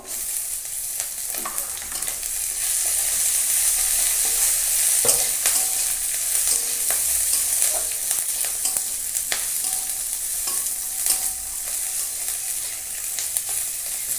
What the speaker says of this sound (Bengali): কাঁচা লঙ্কাটা ভেজে নিয়েছি